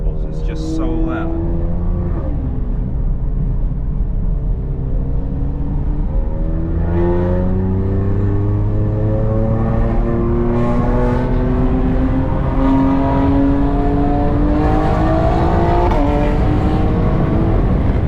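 A 600 hp BMW X3 M engine drones loud and close from inside the cabin while driving, its pitch climbing steadily through the gears over the whole stretch.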